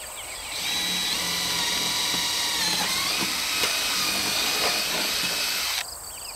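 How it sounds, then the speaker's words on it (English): A power drill bores a hole through a plastic 3.5-gallon chicken water bucket, a steady high-pitched whine holding close and loud for about five seconds before stopping abruptly, with no talking. "the first step is going to drill a hole in here"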